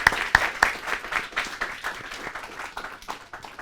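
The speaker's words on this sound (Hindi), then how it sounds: "एक बार ज़ोरदार तालियां बजाई जाएं" An audience claps at an Independence Day speech event, a brief burst of scattered handclaps fading into lighter, uneven applause.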